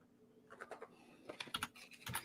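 Quiet, rapid computer keyboard typing, a quick irregular run of soft clicking keystrokes picking up toward the end, alone with no talk.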